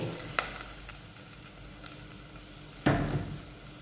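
Chicken in yogurt sauce frying in a pan with a little water added, a soft steady sizzle broken by a couple of sharp clinks and scraping stirs, close and quiet with no voices.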